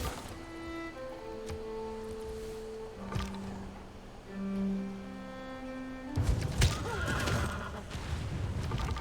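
A horse archer's horse whinnies in Civilization 6, drawn-out neighs against a busy game soundscape of ambient tones, with a louder burst of clattering hooves and movement near the end.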